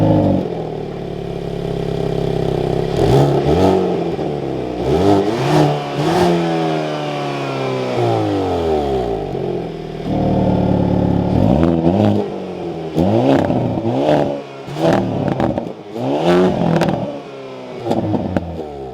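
A 2023 Hyundai Kona N engine starts and revs repeatedly, loud and close, climbing and falling in pitch through several throttle blips with exhaust crackle between them.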